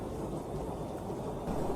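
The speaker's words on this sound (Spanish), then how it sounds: "el cielo estaba más cubierto de nubes y una tormenta amenazaba con estallar en cualquier momento" Low, rumbling thunder rolls under a steady wash of rain as a storm threatens over a roadside setting in a Spanish audio story, with the sound continuous and fairly loud throughout.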